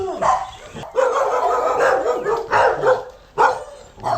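Several dogs bark in loud, repeated bursts close by in a town setting, with an irregular rhythm and short gaps between the barks.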